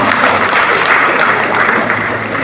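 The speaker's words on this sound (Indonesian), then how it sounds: "Tepuk tangan buat Pak Bupati kita." An audience at a formal signing ceremony for a school admissions commitment bursts into sustained, dense applause, loud and even throughout with no voices over it.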